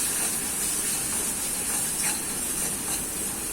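Mint and coriander with a pinch of turmeric sautéing in a pan: a steady, bright hissing sizzle holds evenly close by, quiet and unbroken, with no talk.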